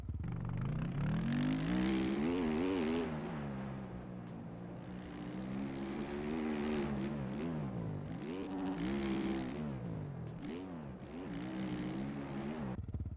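A motocross bike engine in the MX Bikes video game revs and surges with steady throttle over a series of jumps, its loud buzzing note rising and falling continuously with no talk over it.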